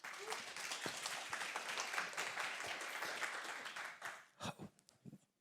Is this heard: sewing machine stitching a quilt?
no